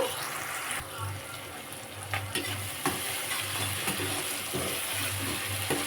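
Tomatoes cooking down in a pan for a prawn curry, a steady close sizzle broken by rhythmic spoon stirring and scraping, fairly quiet, with no talking.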